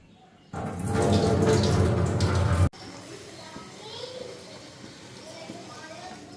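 Running tap water pours strongly over finely chopped leaves being washed for a couple of seconds, then cuts off, leaving a quieter stretch of dripping and handling while a voice talks.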